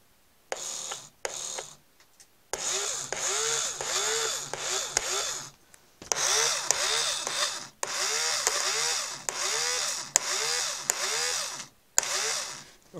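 A small DC motor with reversed polarity, driving a flywheel, whirs loudly in repeated bursts of a few seconds each, with brief silent gaps between the runs and a rising, warbling whine within each burst.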